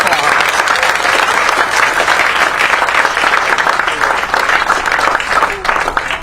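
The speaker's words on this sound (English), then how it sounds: "let's give them a round of applause" A crowd at the Westside Park ribbon cutting and grand opening claps for drummer Lamont McGee, a loud, sustained wash of applause that stays dense and steady from start to finish.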